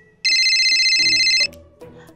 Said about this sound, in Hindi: कॉल आ रहा है परमीत का